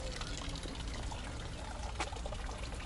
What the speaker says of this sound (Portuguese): Mais uma quedazinha de água daquele lado